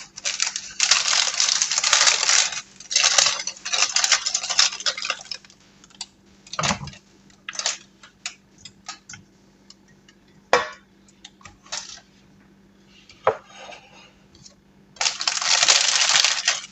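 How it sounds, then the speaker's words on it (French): Fingers tapping on a small metal sieve while making an economical chocolate cake; bursts of rapid light rattling, close and fairly loud, alternate with pauses and single sharp taps over a faint steady hum. "donc je tapote sur la petite passoire"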